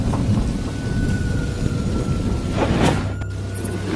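A cartoon-style thunderstorm effect: steady heavy rain hisses throughout while low thunder rumbles beneath, with a sharper crack near the end.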